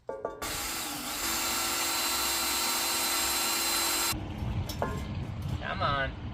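A power drill bores holes for bolts during maintenance on a hydro-frack drill rig, giving a loud, continuous whir for several seconds. It then cuts off, leaving scattered handling clatter and a brief voice nearby.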